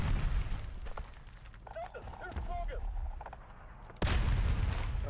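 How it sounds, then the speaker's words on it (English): Loud, booming automatic cannon fire from a vehicle's twin-linked 76 mm guns in the War Thunder tank game, heavy rolling bursts with a fresh blast near the end, and a faint voice underneath. "the enemy is gonna use its automatic 76 twin-linked cannons"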